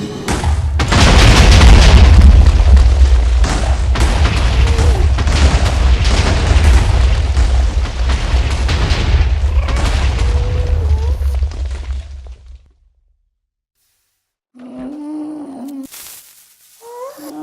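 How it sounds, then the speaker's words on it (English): A long roaring barrage of loud Minecraft TNT explosions, booming and rumbling continuously for many seconds, then cutting to silence before a brief voice. "So here I'm going to blow some stuff up for you and show you how the explosions"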